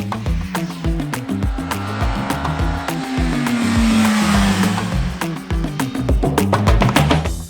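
A Suzuki GSX-S1000 GX with a 1000cc inline-four engine is ridden on the road, its engine droning loud and close and swelling as it pulls through the gears, with a steady, rhythmic pulse.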